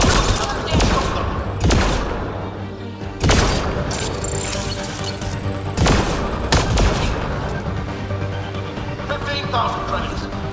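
Gunfire in the sci-fi shooter Mass Effect Andromeda: several loud, sharp shot bursts spaced a few seconds apart over a dense, constant game soundscape, with a voice speaking in the background.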